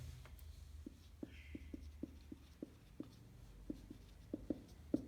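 A formula being handwritten for a leveling slope calculation: short, irregular scratchy strokes and taps of pen on paper, close and quiet, with no talking.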